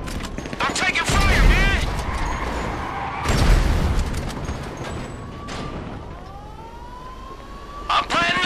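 Heavy gunfire rattles in bursts aboard a ship in Grand Theft Auto 5, with loud volleys around the first and third seconds amid a rising siren-like whine and shouted talk over the fight.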